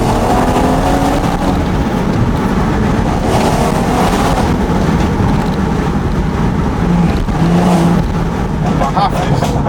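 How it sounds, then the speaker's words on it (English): Exhaust of a BMW M140i with a Stage 2 tune heard from inside the car while driving with a window open, a steady loud engine and road roar with wind noise running throughout. "I'm going to open that window again just so you can hear the exhaust sound"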